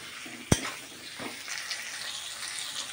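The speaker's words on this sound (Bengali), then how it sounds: "পেঁয়াজগুলো দিয়ে আমি একটু কষাবো।" Chopped onions fry in a pan with a soft steady sizzle. A sharp clank from a utensil against the pan cuts in near the start, followed by quiet stirring.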